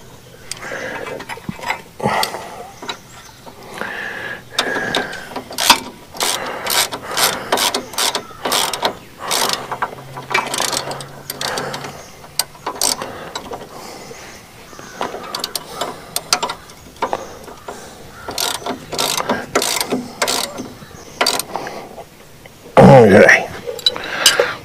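Ratchet tightening a nut on the front wheel hub of a 1999 Chevrolet C3500 2wd truck: rapid close clicking bursts in repeated strokes with short pauses, followed by a louder clunk near the end.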